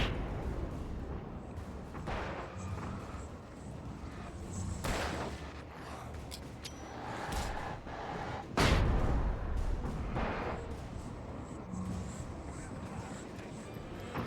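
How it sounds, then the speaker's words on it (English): A flashbang grenade goes off in the video game Alan Wake Remastered, a sharp, loud burst standing out amid repeated gunshot-like blasts and impacts of in-game combat. "we'll just throw down a flashbang"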